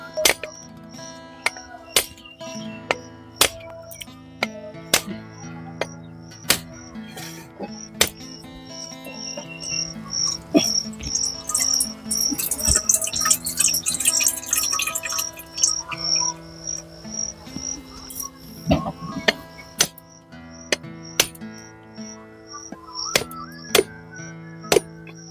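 A coconut is split in two with repeated sharp chopping strikes at an uneven pace. Crickets chirp steadily in the background, and a denser burst of clattering comes midway.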